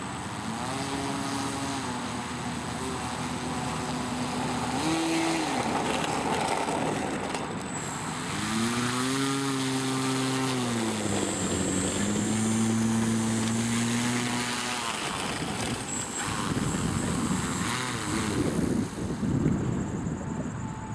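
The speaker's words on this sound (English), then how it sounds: "we'll see about doing another taxi test" Engine and propeller of a large Albatross model airplane with a 20-foot wing during a taxi test, a sustained droning whine that rises and falls in pitch as the throttle changes, fairly loud with wind noise.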